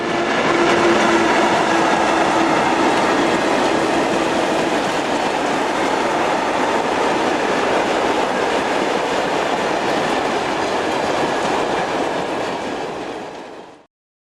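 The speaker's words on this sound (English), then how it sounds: "Finally, 25154 is seen heading north with a lengthy mixed freight" Locomotive 25154 hauls a long mixed freight train past at close range in France, producing a loud, continuous rumble and wheel roar that holds steady before cutting off abruptly.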